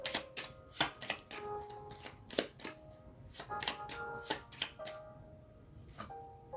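Tarot cards are shuffled and riffled in quick, uneven bursts of crisp flicks and taps, fairly quiet and close, with no voices.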